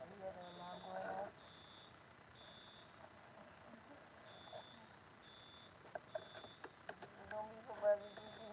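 An alarm beeps in a steady repeating pattern of short, even, mid-distance tones, continuing under a person talking and scattered background noise.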